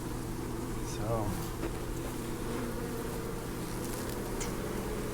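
Honeybees drone steadily through a hive inspection, a continuous low buzz with a faint voice talking over it.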